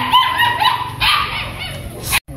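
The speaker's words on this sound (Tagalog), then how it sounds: "yung mga aso ko" Dogs bark and yip close by in a quick, excited series of loud, high calls, ending with a sudden cut.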